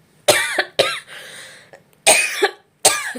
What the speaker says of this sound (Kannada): ಒಂಥರ ಒಣ ಕೆಮ್ಮು ಅಂತಾರಲ್ಲ ಆ ಥರ ಕೆಮ್ಮು